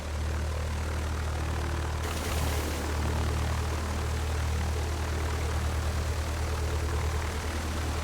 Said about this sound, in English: Look at that, a battery-powered airplane.